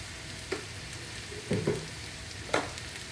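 Ghee heating in a pan gives a soft, steady sizzle near the pan, broken by a few brief clinks and scrapes.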